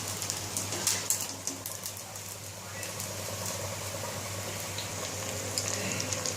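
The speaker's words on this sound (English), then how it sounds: "So this is the third time we are frying" Mandeli fish fry in hot oil over a medium flame, a continuous crackling sizzle with scattered pops and spits, close and steady, more active at the start, with no voices.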